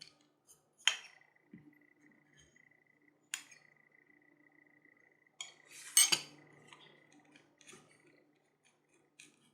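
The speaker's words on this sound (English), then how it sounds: "We also need to bevel all of our edges." Leather edge beveling on a knife sheath produces sparse, sharp scraping clicks and short metallic taps, several isolated strokes with quiet gaps between them, close and fairly soft.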